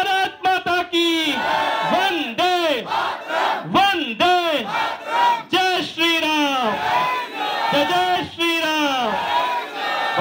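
A large crowd at an outdoor BJP election campaign rally in Hastsal, Delhi, chants a slogan back in loud, repeated bursts, responding in unison to a leader's call amid shouting and cheering.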